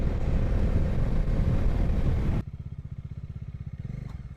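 A motorcycle rides along a road on a morning hill ride, first as loud broad wind-and-engine roar, then a close, steady throbbing engine putter once the wind noise drops away.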